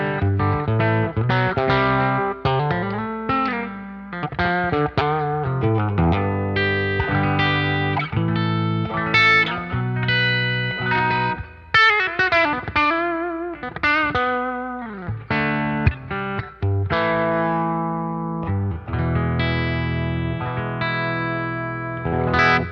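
Electric guitar through a Wampler Pantheon Dual Overdrive Deluxe pedal, bass near 11 and treble near 2 o'clock, playing a busy, rhythmic riff of articulated notes and chord stabs with brief gaps and slides, loud and up front throughout.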